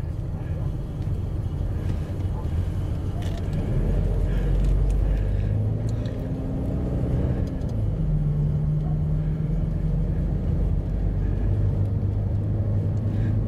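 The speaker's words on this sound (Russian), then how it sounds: "вот я еду по улице Новая" Car driving along a newly asphalted street in an urban-type settlement, a steady close engine and road rumble throughout with a faint rising whine midway.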